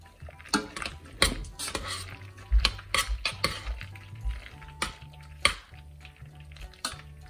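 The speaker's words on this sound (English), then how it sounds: "Adding in the cheese powder, and just make sure to mix it" A spoon scrapes and clatters in a pot while cheese powder is stirred into cooked macaroni, a busy run of soft knocks and wet mixing up close, with a low hum underneath and no talk.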